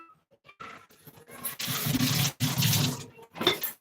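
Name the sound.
water being poured for drinking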